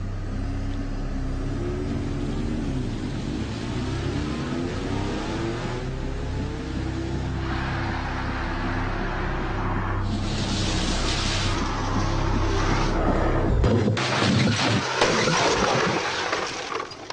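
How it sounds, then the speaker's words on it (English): A remote-controlled car with a 3-star NCAP rating runs at 70 mph into concrete blocks: a steady motor drone builds, then a sharp, loud impact bursts out near the end, followed by rattling debris noise. "Another remote-controlled 3-star NCAP car, 70 miles an hour into concrete blocks."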